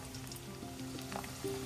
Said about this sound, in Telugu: వేడి అయిన ఆయిల్లోకి 2 స్పూన్స్ ఆర్ 3 స్పూన్స్ ఆఫ్ మెంతులు, ఫెనుగ్రీక్, దాంట్లోకి గార్లిక్ వేసుకొని అలా వేపుకోవాలి